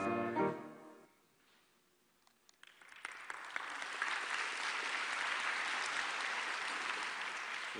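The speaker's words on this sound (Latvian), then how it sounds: "Aplausi viņiem, protams." A lecture on architecture ends with a short spoken phrase, a pause of near silence, then a full audience breaks into sustained applause that builds and holds as a steady wall of clapping.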